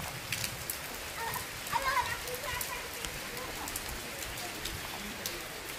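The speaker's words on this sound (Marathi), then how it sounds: "हे पण चालूच आहे पाऊस" Unseasonal May rain falls steadily, a continuous soft hiss of drops on surfaces with a few faint louder patters, and voices murmur faintly in the background.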